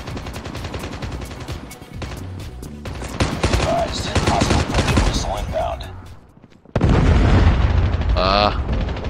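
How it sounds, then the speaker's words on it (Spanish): Rapid gunfire and heavy booms from Call of Duty Mobile fill the clip, fading briefly before a loud explosion bursts in near the end. "tremenda explosión"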